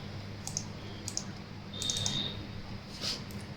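A company name being typed on a computer keyboard, several quiet isolated key clicks spaced irregularly over a faint steady background hum, with no voices.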